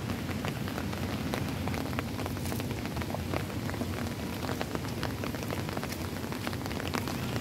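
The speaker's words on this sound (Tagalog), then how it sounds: "At hanggang ngayon nga guys ay hindi pa rin tumitigil ang ulan." Steady rain falls in Kowloon Park, Hong Kong, a dense, even patter of drops striking nearby surfaces that continues without a break, fairly soft and close, with no voices over it.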